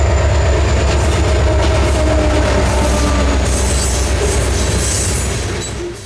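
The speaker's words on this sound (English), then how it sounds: "915 was coming into the yard from the south and had piqued my interest" A Florida East Coast Railway EMD freight train rolls into a yard from the south, hauling a heavy cut of freight. It makes a loud, close, continuous rumble of engine and wheels with faint squeals and rail clatter, easing slightly at the end.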